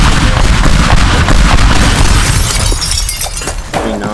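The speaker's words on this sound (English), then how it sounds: "we can always just put some pipe bombs and throw them out there" Pipe bombs go off in the video game Teardown, a loud, dense roar of blasts with shattering and crumbling debris that fills the whole stretch and eases slightly toward the end.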